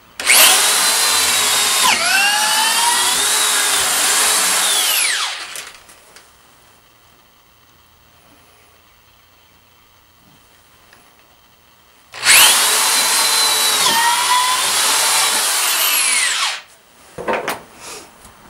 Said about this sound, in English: First thing you've got to do is drill your holes.